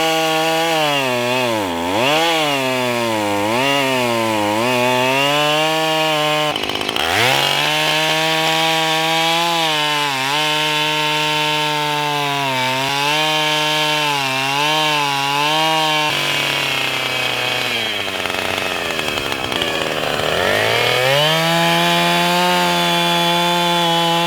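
Chainsaw cutting birch logs into firewood, loud and close, the engine pitch bogging down and revving back up repeatedly as it labors through the wood, with a brief drop in between cuts.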